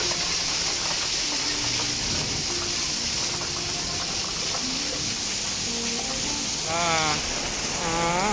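Heavy rain pours in a dense, steady hiss on the surfaces around a shop, continuous and loud throughout, with faint voices talking underneath.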